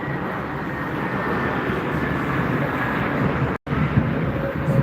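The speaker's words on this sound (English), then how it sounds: "Airbus arriving." A Lufthansa Airbus arriving at Frankfurt Airport gives a broad, steady jet roar mixed with wind buffeting, loud and continuous apart from one brief dropout.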